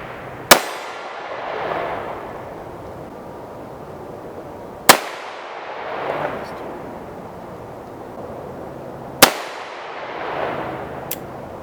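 Smith & Wesson Governor revolver firing triple-aught buckshot outdoors at about 15 yards: three loud, sharp shots spaced roughly four seconds apart, each followed by a rolling, echoing decay.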